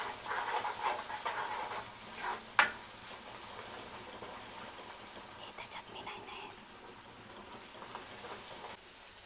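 Prawn curry masala with kokum fries in hot oil in a pan, a soft steady sizzle with faint scraping stirs and one sharp utensil clink, quiet and close.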